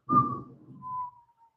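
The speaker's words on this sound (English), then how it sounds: "All you're gonna hear is just a whistle in the background." A lone whistle sounds faintly in the background, giving a short breathy blast and then a thinner, fading second tone, all within about a second and a half.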